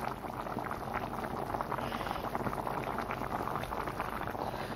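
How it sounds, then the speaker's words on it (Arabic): Potatoes and peppers simmering together in a meatless Algerian pepper tagine, a steady bubbling boil with a dense, continuous crackle that keeps an even level throughout, with no voices. "الان راح ندير البطاطا ونخليها باش تزيد تجمر شويه مع هذاك البصباص"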